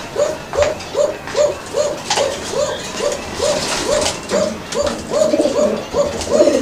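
Exhibition pigeons coo in a repeated, rhythmic series of soft throaty calls close by, roughly two per second, with a busy background of other birds and faint market noise.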